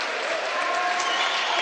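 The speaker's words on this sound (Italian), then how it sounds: "Tra gli applausi del pubblico virtusino" Home crowd at a Virtus Valmontone basketball game applauds as number 4 Filippo Cianni makes his Serie B debut; a steady, dense wash of clapping fills the arena, with faint murmuring underneath.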